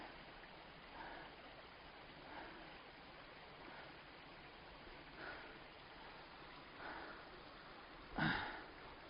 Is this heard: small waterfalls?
yes